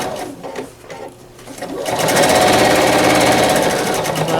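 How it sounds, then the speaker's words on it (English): A PFAFF Quilt Expression 4.0 sewing machine stitching improv quilt pieces and small pot holders: a quiet couple of seconds, then a loud, steady, close-up mechanical whir that runs without a break. "improv sewing, where you're just sewing, making these little pot holders or quilt pieces"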